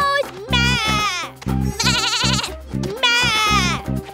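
A cartoon baby goat bleats three times in long, wavering, nasal calls, loud and close, most likely voiced by a person imitating the animal.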